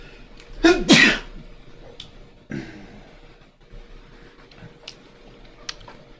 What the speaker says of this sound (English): I think I'm going to sneeze and I apologize.